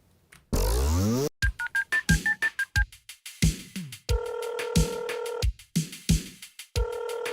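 In an Undertale-themed Friday Night Funkin rhythm game, telephone dialing tones beep in short rhythmic bursts, with sustained dial-tone chords and percussive hits setting a choppy beat.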